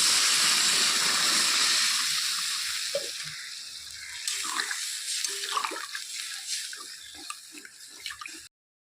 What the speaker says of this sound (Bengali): এখন দিয়ে দিচ্ছি ঝোল।